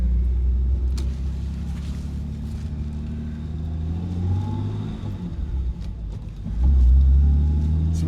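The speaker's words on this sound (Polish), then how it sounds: "Nie spodziewałem się, że będzie mi kiedyś dane jechać Jaguarem E-Type'em." A classic Jaguar E-Type is driven along with a deep, steady engine rumble from inside the car, the pitch shifting through gear changes and swelling into a louder rev near the end, with no talking.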